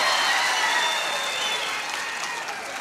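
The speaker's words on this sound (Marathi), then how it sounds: "एकदा जोरदार टाळ्या होऊ द्या." A large audience applauds at a birthday guidance event for students, with dense, steady clapping that starts loud and fades slightly toward the end.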